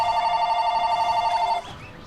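A telephone rings in the Ni No Kuni video game, a steady electronic trill repeating loud and close for about a second and a half before cutting off, leaving faint background sound.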